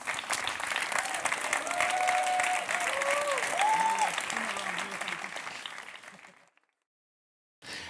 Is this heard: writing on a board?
no